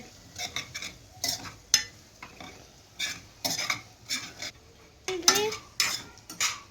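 Egg fried rice stirred in a hot pan over a high flame, a spoon or spatula scraping and clattering against the metal in irregular bursts over a soft sizzle, close and alone with no voices.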